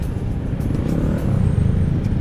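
Steady low engine drone with road rumble from a motorcycle ride through heavy morning traffic on Commonwealth Avenue, continuous and close with no speech.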